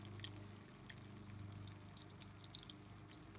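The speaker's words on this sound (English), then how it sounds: "You can see the water flowing down," Rainwater running down a hammock tarp's drip line and falling off the end, heard as quiet, close, irregular patter of drips over a soft wet hiss.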